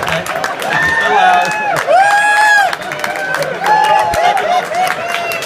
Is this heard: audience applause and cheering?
yes